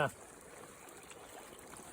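Water flows through a small hole cut in a beaver dam in Minnesota, a faint, steady gurgling trickle after a brief louder knock at the very start.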